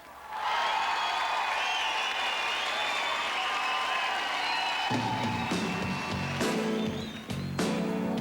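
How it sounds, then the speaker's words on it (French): A crowd at a 1990 talent show applauds a band, loud sustained clapping mixed with cheers and whoops, with music and sound changing in the second half. "Une bonne main d'applaudissements pour le groupe"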